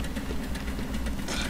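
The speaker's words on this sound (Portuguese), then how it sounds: "Agora liga o motor na cabine." A vehicle engine in the video game Scrap Mechanic rumbles steadily at close range, a low continuous idle with a slight knocking pulse running through the short stretch.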